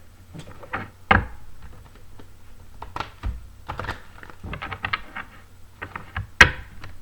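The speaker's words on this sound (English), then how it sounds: "This is why I stopped using this deck a long time ago, because it's too big and hard to shuffle." An oversized tarot card deck is shuffled by hand in short, uneven bursts of papery slaps and riffles, close and fairly quiet, with pauses between handfuls and no talking.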